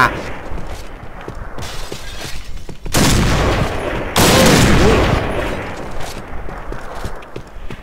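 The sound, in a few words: gunfire from the video game Point Blank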